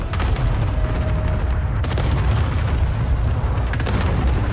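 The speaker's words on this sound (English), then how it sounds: "that's a fucking airstrike on our position" Airstrike explosions in Call of Duty Warzone rumble heavily and without a break, deep booms and crackling blasts layered over one another, loud and close throughout.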